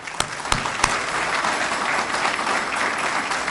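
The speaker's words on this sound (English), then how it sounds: "Give him a round of applause." A crowd at an outdoor trail connector grand opening applauds with steady, full clapping, opening with a few sharp individual claps before settling into a continuous wash.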